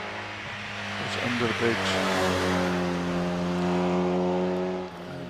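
An MGB sports car with its 1840cc B-series engine climbs a speed hill-climb course, its engine note droning steadily and rising as it accelerates past, loud and close, then dropping off near the end, with a commentator talking over it.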